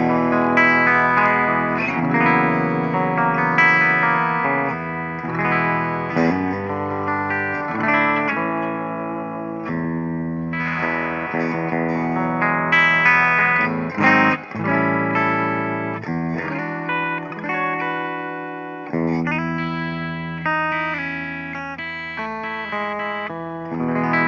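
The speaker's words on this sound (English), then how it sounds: "here we're starting with our bridge pickup on a clean sound" A Carvin/Kiesel CT4 California Carved Top electric guitar plays on its bridge pickup through a clean amp setting, with a continuous run of chords and single notes ringing out clearly and no talking.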